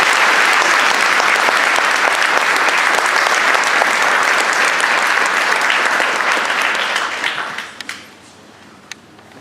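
Loud, dense crowd applause fills a military retirement ceremony for a long stretch, then thins out and fades, leaving a near-silent room with a single faint knock at the very end.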